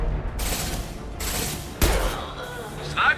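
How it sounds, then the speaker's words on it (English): In Mass Effect 2 Legendary Edition, impact shot gunfire lands as a few heavy, booming blasts amid busy combat noise, with a faint voice under the action. "Firing an impact shot."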